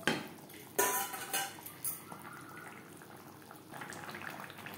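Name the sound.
katla fish curry cooking in gravy in a pan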